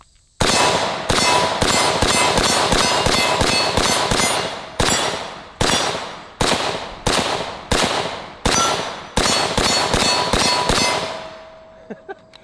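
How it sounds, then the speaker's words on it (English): Rapid strings of rifle shots from an Arsenal AK-74 in 5.45x39 ring off a rotating white steel gong, each crack followed by a sharp metallic clang in quick bursts with short pauses, loud and close, without talk. "I was trying to shoot that white gong while it was rotating."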